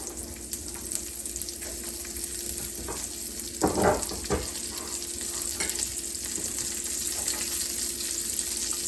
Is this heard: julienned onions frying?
yes